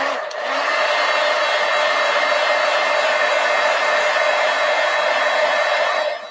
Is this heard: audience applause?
no